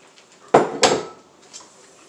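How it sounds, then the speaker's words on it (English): A whisk stirs milk into a pot of ham and potato chowder, making two sharp metallic clanks against the pot followed by softer scraping and stirring. "And just continue to whisk."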